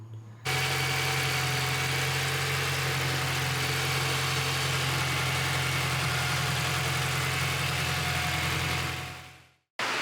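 A car fitted with a Honda K24 engine and an ATI Super Damper fires up and settles into a steady, loud idle, with a constant low rumble and an even mechanical hum that runs close to the microphone for about nine seconds before cutting off abruptly.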